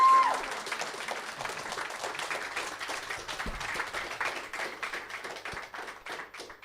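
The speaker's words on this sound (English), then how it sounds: "Round of applause, please." A modest audience claps after an evening interview, a steady patter of applause at moderate distance that continues and tapers slightly toward the end.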